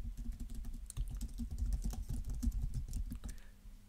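Rapid keystrokes on a computer keyboard, a steady run of close, crisp clicks lasting several seconds with no talking over them.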